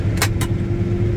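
A combine harvester engine, its speed sagging from a clogged filter, drones steadily up close, with two brief whooshing bursts near the start as it picks up speed again.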